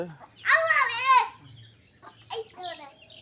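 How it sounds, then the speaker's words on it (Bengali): Chickens and chicks cluck and call close by in short bursts while being fed, with a quieter voice or chirp following after a brief pause. "এই যে রাফামণি তার মুরগির বাচ্চাদের খাবার দিচ্ছে।"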